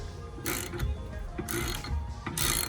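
A hand ratchet loosens a hub bolt on a 2013 Toyota Prius during a rear hub replacement, giving three short bursts of rapid clicking over low background rumble, close and fairly loud.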